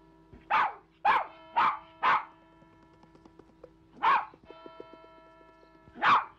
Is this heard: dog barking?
yes